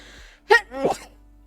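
A single sneeze-like burst with a short gasping intake before it, fairly close and alone, with no talk.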